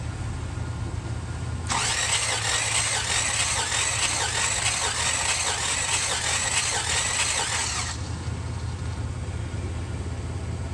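A 1966 Buick Riviera GS engine cranks steadily on the starter for about six seconds without firing during a compression test, a loud even rhythmic churn that begins and stops abruptly over a low background hum.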